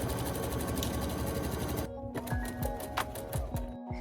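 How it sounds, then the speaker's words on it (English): Sewing machine runs a fast continuous stitch on a fabric hem during a thrift-flip pants-to-capris alteration, then slows into a few separate clunking stitches near the end. "and then just sew on top of it."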